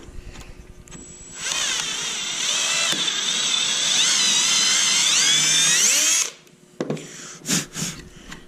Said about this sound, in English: we got the hole drilled in